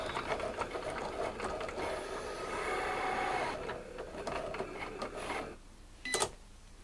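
A cutting machine slicing out a Thanksgiving place card, giving a steady mechanical whirring and rasping for several seconds, then going quieter with a brief sharp burst near the end.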